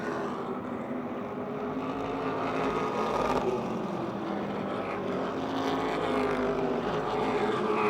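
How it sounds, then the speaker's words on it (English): Race cars battle wheel to wheel at Motordrome Speedway, their engines making a steady, loud mechanical roar that swells and fades slightly as they pass, with no talk over it. "Wheel to wheel racing for second spot behind the 0-4 of Bobby Ship."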